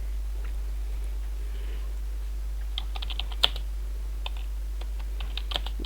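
Light, quick keystrokes on a computer keyboard, tapping in short irregular bursts against a steady low hum, fairly soft and close.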